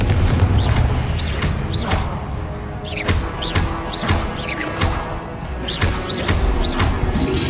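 Confringo explosion spells go off in Hogwarts Legacy: a string of heavy, booming blasts, loud and close, about one a second, each with a quick crackling burst and a fading rumble, with no talking.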